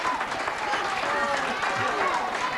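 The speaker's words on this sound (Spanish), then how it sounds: "Miren las mujeres como la aplauden." A studio audience on an Argentine television talk show applauds in a steady, dense wash of clapping, moderately loud and continuous for a few seconds.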